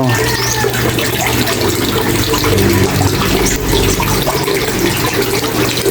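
Water pumped from a submersible pump rushes through a homemade charcoal filter, a continuous loud splashing flow with a low steady hum underneath and no pauses.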